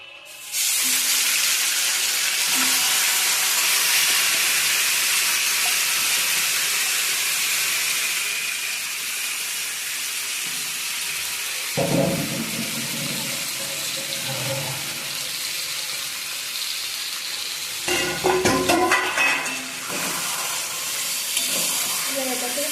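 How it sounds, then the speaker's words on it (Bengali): Marinated chicken frying in a pan with whole garam masala for a spicy red chicken kosha, a steady loud sizzle with stirring scrapes and clatter. "ভাজার পর দিয়ে দিতে হবে ম্যারিনেট করা মাংস।"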